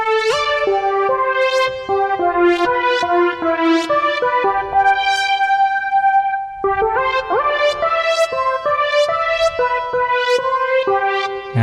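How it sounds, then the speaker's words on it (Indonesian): A Yamaha MX61 synthesizer keyboard plays a bright, bell-like synth patch in a steady run of plucked notes with sustained chords beneath. There is a brief gap near the middle, then the playing resumes with a pitch glide. The sound is loud and close, with no voices. "Ada suara yang sering Mas Kris pakai, ini suara synth-nya seperti ini."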